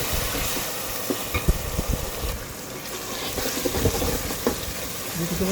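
Ginger garlic paste fries in a pan for shahi daal, a moderate crackling sizzle with scattered sharp pops and stirring scrapes throughout.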